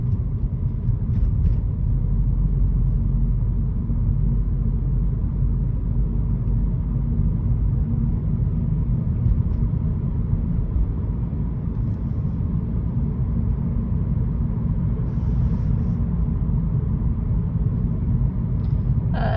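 A 2012 BMW 118i M Sport with a 2.0-litre engine, Steptronic gearbox and a fault that keeps cutting out the engine drives at low speed. Heard from inside the cabin as a steady, loud, low rumble with a faint momentary judder.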